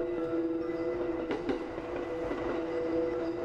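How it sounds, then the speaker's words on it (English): Train riding in the video game Yurei Station: a steady rumbling hum of a moving carriage with low vibration and faint clicks, constant and unbroken, without speech. "The train's vibrations relax me."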